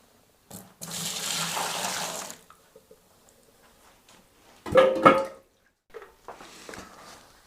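Hot water from a kettle pours in a steady rushing stream into a bucket for over a second, then stops; later a few sloshes and clunks follow in an otherwise quiet room.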